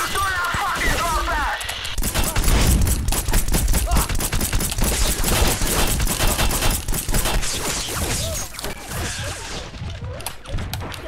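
Dense automatic gunfire in a shooter video game rattles in rapid bursts while enemies are shot, loud and near throughout, with a player talking over the shooting.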